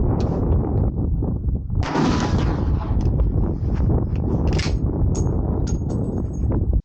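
A Remington 760 rifle fires a single loud shot at an outdoor range, a sharp blast near 1.8 seconds over steady wind and background noise, followed by faint metallic clinks.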